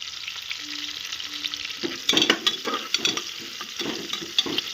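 Onion fries in a pan for rice, a steady close sizzle with bursts of stirring scrapes and crackles that grow busier partway through, with no talk.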